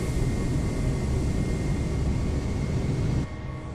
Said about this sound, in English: A lot of noise in this plane.